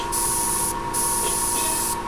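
Airbrush spraying paint on a Saquon Barkley portrait, a steady close hiss in two long bursts broken by short pauses.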